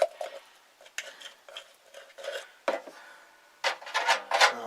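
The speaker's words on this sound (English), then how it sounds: "I'll dig some of this peanut butter out, there's not much in it." A utensil scrapes and digs peanut butter out of a nearly empty jar, making a series of close, quiet scraping and clinking strokes in irregular bursts with pauses between them.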